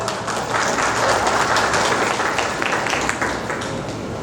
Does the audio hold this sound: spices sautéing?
no